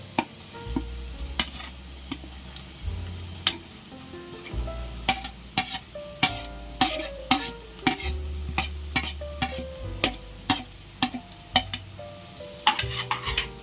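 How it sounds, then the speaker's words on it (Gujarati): A spatula scrapes rhythmically through shredded cabbage and fried momo filling in a pan, repeated clattering strokes over a continuous low sizzle and hum. "આપણે આ રીતના હલાવી નાખવાનું છે"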